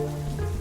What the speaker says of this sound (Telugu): కాని వర్షం ఆగలేదు.